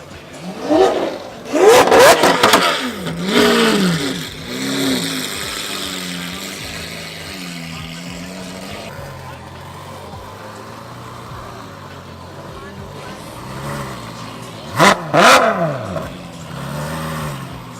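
Supercars leaving at the end of Supercar Week's grand finale show, engines revving hard in loud bursts at the start and again near the end, with a quieter rumble of passing traffic in between.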